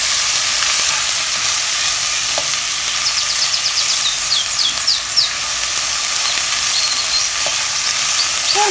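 Onion, garlic and celery fry and are stirred in a pot for white chicken chili, giving a steady, close sizzling hiss that runs unbroken throughout with no talk.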